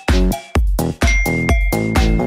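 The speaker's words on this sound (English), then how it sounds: "hit the notification bell right beside it" A bright notification-bell ding sound effect repeats five times in a quick regular rhythm, each strike ringing clear and loud with a short metallic decay.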